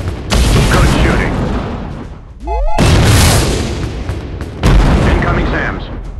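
Surface-to-air missile explosions boom through a video game, three heavy blasts each rolling into a long rumbling decay, with a brief whistling sweep in between and a voice speaking over the action.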